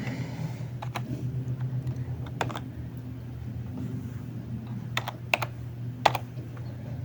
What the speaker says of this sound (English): I typed clear, now I press enter.